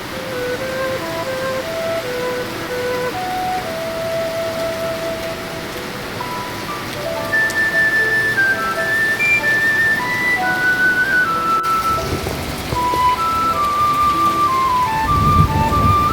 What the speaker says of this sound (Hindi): केते वर्षा हो देखो